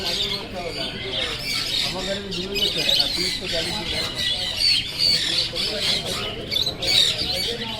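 Pineapple conures at a pet bird market in Sreerampur, repeated harsh, close squawks in quick irregular bursts, with people talking underneath.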